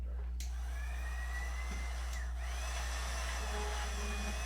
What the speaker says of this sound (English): And then we're going to attack it with this stick blender.